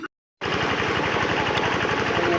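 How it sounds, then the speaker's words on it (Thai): Water-well drilling rig starting up to bore for water, a loud, steady, pounding engine-driven hammering running continuously close by after a brief silence. "เริ่มการเจาะน้ำของเราแล้ว"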